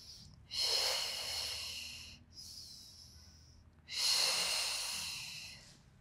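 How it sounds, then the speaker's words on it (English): Deep, slow breaths during a beginner Pilates exercise, two long airy inhale-exhale swells a few seconds apart, close and fairly loud with no talking. "In breath."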